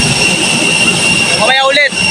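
Steady loud roar of an airplane jet engine at Kalibo International Airport, continuous throughout, with a voice cheering briefly over it near the end.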